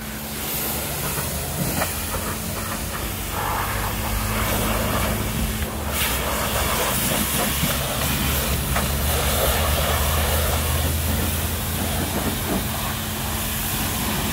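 A high-pressure sprayer at a self-service car wash hisses loudly and continuously, a dense, steady rush of spray with a low rumble beneath it throughout.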